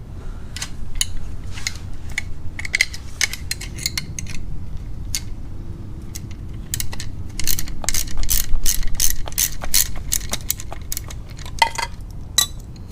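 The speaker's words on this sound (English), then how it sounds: "So we'll start off by using a 10mm socket and a 10mm wrench." A ratchet with a 10mm socket, paired with a 10mm wrench, loosens a motorcycle mount bolt, making close, rapid metallic clicking in bursts with brief pauses and faint tool clatter.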